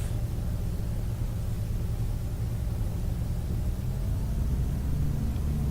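Lightweight seaplane engine in the X-Plane flight simulator, a steady low droning rumble that holds at an even level and swells slightly toward the end as it powers up for takeoff.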